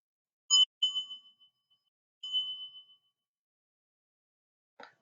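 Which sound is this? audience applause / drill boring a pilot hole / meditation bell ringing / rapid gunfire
meditation bell ringing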